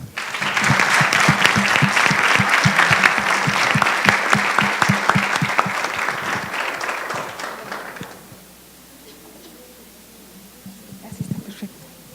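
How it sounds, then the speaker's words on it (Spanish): A conference audience at a university event applauds a speaker, with loud, dense clapping for about eight seconds before it fades into quiet room tone and a few scattered claps. "Démosle un fuerte aplauso."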